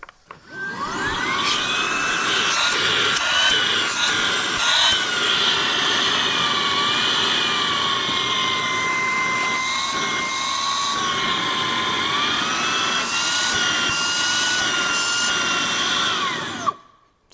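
A Skil Slim Vac 12-volt cordless vacuum switches on and runs steadily at close range, a loud continuous high whine with a strong motor drone that holds for about sixteen seconds before cutting off.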